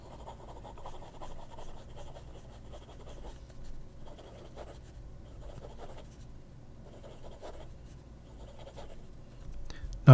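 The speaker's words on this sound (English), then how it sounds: "Fast writing." A Parker Duofold Jasper Red fountain pen scratching rapidly across paper in quick bursts of strokes, close and fairly quiet, with a little faint voice in the background.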